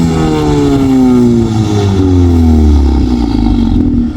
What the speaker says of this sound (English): Okay, this is how the car sounds in comfort mode.